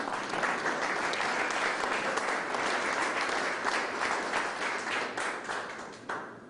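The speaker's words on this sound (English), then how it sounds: "give yourself a round of applause" An audience gathered at a brewery in Springfield for a small business announcement claps heartily, close and steady applause that thins out near the end.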